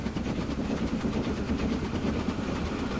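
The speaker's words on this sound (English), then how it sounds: "I believe that is the goods train that comes from the hub" A goods train rolls through a Transport Fever game world, steady rumbling wagons with clickety-clack rhythm held at a constant loud level for the whole stretch, with no talking.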